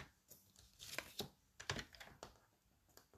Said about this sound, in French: je vais d'abord découper mes 15 dans le sens de